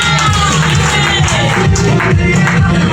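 Crowd at a youth music certificate ceremony applauding and cheering for a candidate, a dense, loud, steady wash of clapping and shouts with no pauses.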